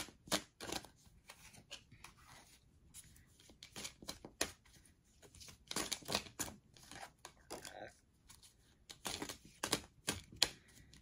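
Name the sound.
tarot cards being shuffled and drawn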